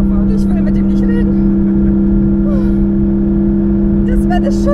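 A car engine drones steadily inside the cabin during a fast passenger lap of the Nürburgring, holding a constant hum under near-continuous conversation between the occupants.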